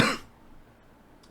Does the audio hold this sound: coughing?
yes